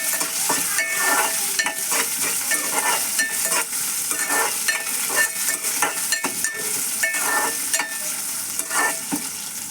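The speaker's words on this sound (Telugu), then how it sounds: "ఆనియన్ మనకి గోల్డెన్ కలర్లో వచ్చేదాకా మనం వేపుకుందాం." Onion and chilli fry in a pan while being stirred, a steady close sizzle broken by repeated scraping and clinking strokes of the spoon, with no talk.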